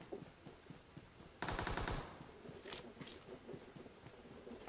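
A quick burst of automatic gunfire in the battle royale game PUBG Mobile, about half a second of rapid shots followed by a few scattered distant pops, all fairly faint.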